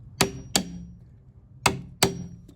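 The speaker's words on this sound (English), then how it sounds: "you just hammer it through." A hammer drives a hole punch through a nail in a plywood pallet, landing four sharp metallic strikes close up in two quick pairs with a short pause between them.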